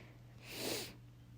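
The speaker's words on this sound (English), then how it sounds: "Sorry, I got a little sniffle." One short, breathy sniffle through the nose, close up and fairly soft, lasting under half a second in a quiet room.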